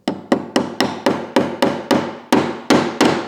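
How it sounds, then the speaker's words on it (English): Track pins being hammered into pre-drilled holes in model railway track, about ten sharp, evenly spaced taps that ring out clearly and close by, with no talking. "we're going to take the track pins, and this already has holes in it for the pins, so we're just going to tap it in"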